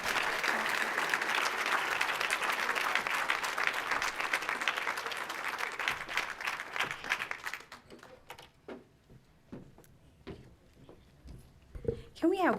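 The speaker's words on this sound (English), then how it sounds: "Can we have one more round of applause for Dr. Ishop, please?" Audience applause at a 2015 Black celebratory ceremony: dense, loud clapping fills the hall for several seconds, then thins out and fades as scattered claps and voices take over.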